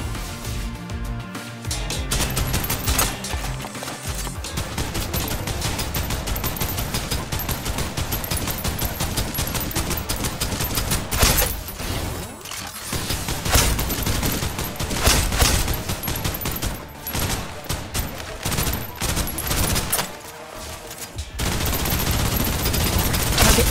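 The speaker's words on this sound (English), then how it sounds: "Suppressive fire." Dense, continuous bursts of automatic gunfire in the sci-fi shooter video game Snowbreak, loud and layered with game effects and music, broken by a few brief pauses.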